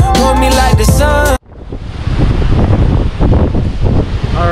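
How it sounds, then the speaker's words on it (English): Wind roars into the microphone on a South Padre Island beach during surf fishing, a loud, gusty rush with surf underneath that follows a burst of music cutting off. "It's a little windy."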